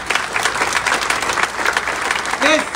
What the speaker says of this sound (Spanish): Un aplauso a ella.